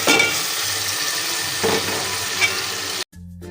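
Potato and pointed gourd fry in a spice paste with a loud, steady sizzle and a couple of soft stirring knocks, then the sound cuts off abruptly near the end.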